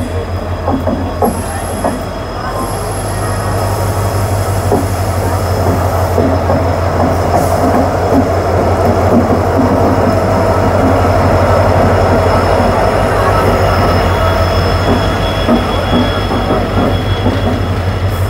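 The Howrah-Puri Superfast Express rolls along a railway platform, a loud, sustained rumble of wheels with rhythmic clacking and high metallic squeals, close by and steady throughout.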